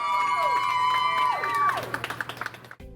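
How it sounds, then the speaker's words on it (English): Wedding guests cheer and clap for the newlyweds, with shouts and whoops over scattered applause that thins into separate claps near the end. "I want to hear one more huge round of applause for your newlyweds, Scott and Brittney"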